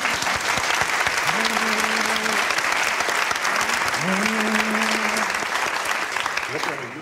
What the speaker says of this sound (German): Kleiner Applaus für meinen Papa, meine Damen und Herren.